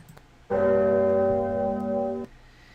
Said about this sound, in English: That's my tip noise. The Statue of Liberty ringing the Liberty Bell.